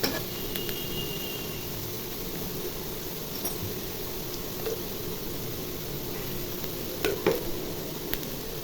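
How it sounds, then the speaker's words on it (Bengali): Ginger-garlic paste fries in oil with a soft, continuous sizzle, fairly quiet and close, with occasional small pops and a slightly louder crackle near the end; no speech. "এখন আদা রসুন বাটা দিব।"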